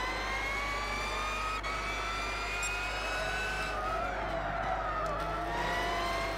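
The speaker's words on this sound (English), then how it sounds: "It's just turbo whistle at the moment." A car in the video game Gran Turismo 6 gives off a steady, continuous turbo whistle with almost no engine note, rising and falling slightly over a constant low drone.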